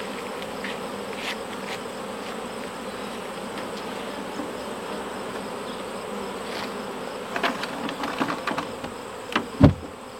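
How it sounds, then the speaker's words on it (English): Honey bees swarm and buzz around an open beehive with exposed beeswax and honey frames, a steady dense drone close by with a few louder passes near the end. "I'm trying to get all the bees off of here"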